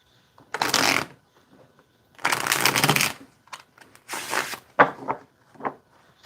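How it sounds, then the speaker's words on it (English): A Tarot of the Divine card deck is shuffled close up in several crisp riffling bursts, two long ones and a few shorter flicks, with no talking during the shuffles. "We'll do one more shuffle and we'll get started."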